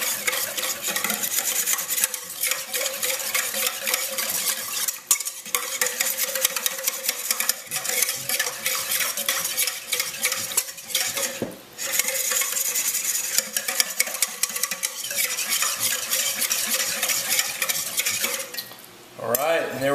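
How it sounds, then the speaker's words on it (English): Ingredients with a quarter teaspoon of salt are mixed in a bowl for brisket enchiladas, giving a continuous close scraping and clinking of utensil against bowl with brief pauses, no talking. "all you're going to do is just mix this up"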